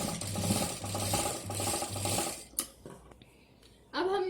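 Short bursts of sewing machine stitching, four quick runs of mechanical whirring as a hanger is sewn onto fabric, followed by small clicks and handling noises.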